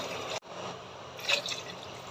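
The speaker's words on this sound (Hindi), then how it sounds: "अब इसमें 2 गिलास पानी के शामिल करेंगे" Water being poured into a glass of mint lemonade, a short steady liquid pour with splashy trickling after a brief cut, fairly close and quiet, with no voices.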